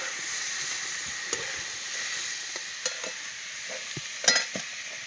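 A spatula stirs moth beans into masala in a pan, giving a soft sizzle with scattered scraping strokes and one sharper clatter near the end. The sound is fairly quiet and close, with no talking.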